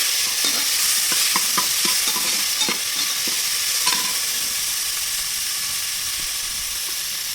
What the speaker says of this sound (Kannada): ಹಾಕೊಂಡ್ಬಿಟ್ಟು ಇವಾಗ ಫ್ರೈ ಮಾಡಿ